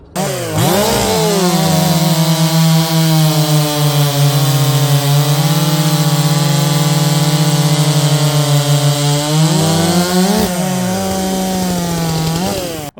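A small chainsaw roars loud and close as it revs up, holds a steady high-pitched drone while cutting through wood, then winds down near the end.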